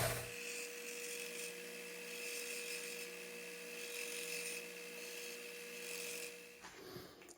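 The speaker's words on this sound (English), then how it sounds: "I'm just going to clean this up on the sander a little bit. It's got some burrs sticking out from the milling" A bench sander grinds milling burrs off a metal crankshaft part for a hit-and-miss engine, a steady raspy whine with a constant hum that continues for several seconds, then stops abruptly near the end, no talk.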